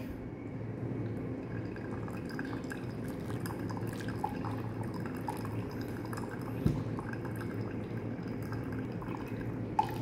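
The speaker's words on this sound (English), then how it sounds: "And we do the last pouring in the fast way." Hot water trickles in a fast final pour over coarse-ground coffee in a Kono drip brewer, a steady, soft, close liquid stream with a couple of small clinks.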